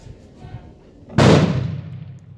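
A single sharp, loud gunshot from a Taurus 85 .38 Special revolver cracks out at an outdoor range on a cold day and then decays into a short, fading rumble.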